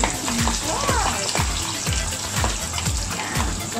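Steady sizzling and crackling of fish frying in hot oil, with faint clinks and background sounds over it.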